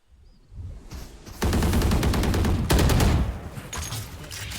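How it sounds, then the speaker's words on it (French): Bursts of automatic gunfire in a tactical shooter video game, two loud sustained volleys following a quieter opening, with a faint tail after them. "On check la box en mettant des grosses rafales dedans"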